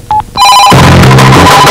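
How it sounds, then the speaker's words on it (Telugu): A telephone rings loud and close, a short electronic double beep followed by a sustained ringtone that swells into a full, dense tone and carries on steadily. "ఫోన్ మోగుతుంది."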